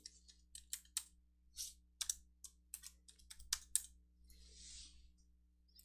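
Text is typed on a computer keyboard into a PowerPoint shape, a close, quiet run of crisp key clicks in short irregular bursts with small gaps, no talking.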